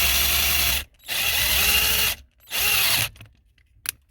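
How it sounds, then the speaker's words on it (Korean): A self-tapping sheet-metal screw drills into aluminum in short, loud powered bursts, three buzzing runs separated by brief silences, with a faint click at the end. "철판 피스로 구멍을 낼 건데 알루미늄 재질이라 엄청 잘 뚫립니다"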